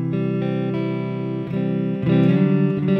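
A distorted electric guitar, its volume on 10, rings out sustained chords through a Fender Blues Deluxe tube amp, thick and buzzy, changing chord twice with a brighter, louder final one.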